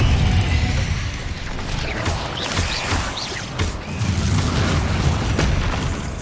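Spell blasts from Confringo and Bombarda in Hogwarts Legacy boom and crash amid ongoing combat clatter, several loud bursts landing over dense, continuous game noise.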